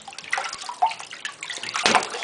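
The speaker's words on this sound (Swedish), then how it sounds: "Det stänker på pappa," Bathwater splashes and sloshes in a bathtub during a child's bath, close by, in irregular bursts with a louder splash near the end.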